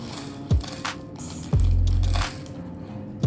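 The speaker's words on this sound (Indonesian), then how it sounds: "Ini ada kriuk-kriuknya." Crispy fried duck (bebek) with green chili seasoning being eaten at a restaurant in Makassar: a few close, sharp crunching bites spaced apart, one longer grinding chew in the middle, with no talking.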